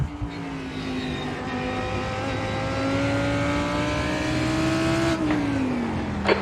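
Race car engines in a sim racing game, Lamborghini and BMW prototypes in an IMSA field at the Red Bull Ring, with a loud sustained engine drone whose pitch climbs steadily as the car accelerates, then drops sharply at a gear change near the end.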